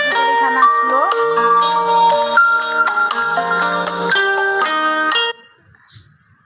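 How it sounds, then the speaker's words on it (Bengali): A bright melodic phone ringtone for an urgent incoming call plays loud and close for about five seconds, then cuts off abruptly into quiet background. "আমার একটা ফোন আইছিল, জরুরি ফোন"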